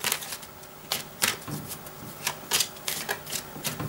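A deck of playing cards is shuffled by hand at close range: repeated quick papery riffles and soft flicks in short, uneven bursts, moderately quiet, with no voices.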